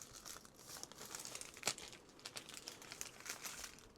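Thin plastic poly bag crinkling and rustling steadily while a shipment is packed, with a sharper crackle midway; close, fairly quiet, no talking.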